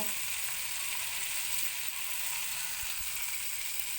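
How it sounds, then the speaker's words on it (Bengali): Prawns sizzle and crackle steadily in hot oil, a dense continuous frying hiss close by, with no talking. "চিংড়ি মাছটাকে এবার আমি একটু উল্টে পাল্টে ভেজে নিচ্ছি"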